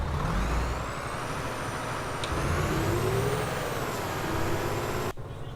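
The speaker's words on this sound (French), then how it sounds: "J'adore le bruit de ce camion." An Iveco Stralis truck engine in a driving video game drones loudly and continuously, its pitch rising and falling gently with throttle, then cutting off abruptly near the end.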